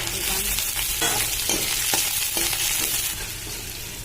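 Chopped carrots, beans and capsicum frying in a pan, a steady loud sizzle with several sharp stirring scrapes of a spatula spaced about half a second apart, easing slightly at the end.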